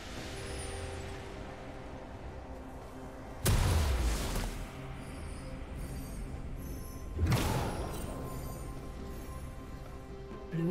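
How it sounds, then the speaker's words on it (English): Turret destroyed in a League of Legends match: two sudden loud booming crashes a few seconds apart, each bursting across the range and decaying over about a second, over a steady low game-ambience drone. "Blue team's turret has been destroyed"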